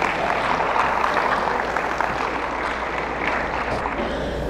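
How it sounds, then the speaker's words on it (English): Steady applause from an audience at a high school alumni honor ceremony, a continuous even clapping wash with no voices over it. "Applause for Miss Abby Carter and her Barron County High School JROTC"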